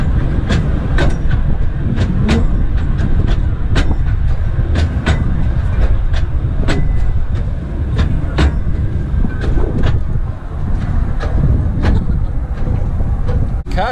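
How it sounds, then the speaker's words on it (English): An old tourist train running along Busselton Jetty, loud and close, with a steady rumble and a regular clickety-clack of wheels over rail joints lasting throughout. "The old train taking tourists up and down the jetty."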